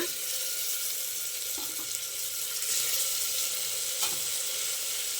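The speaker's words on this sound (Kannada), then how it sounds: "ನೋಡಿ, ಫ್ರೈ ಆಗ್ತಾ ಇದೆ." Ingredients for a bottle gourd gravy fry in a pan, giving a steady, close hiss and sizzle with a couple of faint clinks and no voices.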